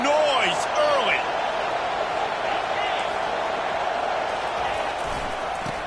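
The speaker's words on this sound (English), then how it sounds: "This crowd bringing the energy and noise early." A college football stadium crowd keeps up a steady, distant roar while a commentator talks over it, with a few shrill whistle-like calls near the start.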